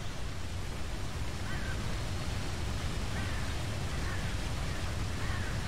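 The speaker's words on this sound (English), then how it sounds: "you can hear the sound of water running. There's a waterfall off in the distance" Running water and a distant waterfall in a 3D nature scene, a constant broadband rushing hiss with no pauses, steady and fairly loud, with faint bird calls over it.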